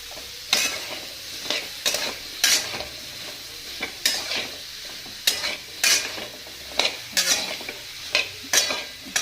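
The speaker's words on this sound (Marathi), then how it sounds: "मस्त अशी परतून घ्यायची भाजी." Chopped ash gourd stir-fried in a pan, with a spoon scraping and tossing the vegetable in repeated strokes over a steady close sizzle, no voices.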